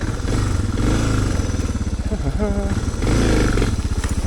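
A Suzuki DR650 dual-sport motorcycle being ridden off-road: loud, close, steady thumping single-cylinder engine pulses, with the revs shifting slightly and some rattle over rough ground.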